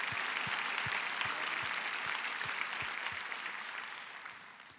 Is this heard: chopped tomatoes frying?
no